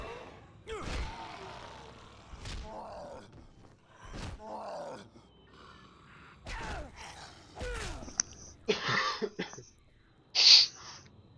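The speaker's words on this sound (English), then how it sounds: "I'm sorry that I keep coughing and whatnot" A sick streamer coughs in repeated harsh, close bursts spaced a second or two apart, with some groaning and throat clearing between them, above faint game sound.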